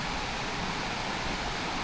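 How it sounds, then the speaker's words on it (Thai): Water from a small waterfall pours steadily in a wet-season stream setting, a continuous broadband rush that stays even and close for the whole stretch with no voices. "ที่เห็นน้ำตกขนาดน้อยไหล ลงมาแล้วก็"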